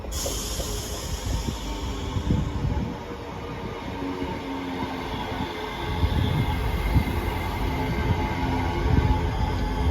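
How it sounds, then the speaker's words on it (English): A ScotRail service from Dunblane to Edinburgh Waverley rolls into Haymarket station, a steady broadband rumble and hiss of wheels and carriages with faint squeals, swelling louder toward the end as it draws nearer. "Arriving in now is the 1621 ScotRail service from Dunblane to Edinburgh Waverley."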